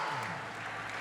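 A brief burst of congregational clapping at a church service, thick, continuous and fairly loud for about a second, with faint crowd murmur underneath.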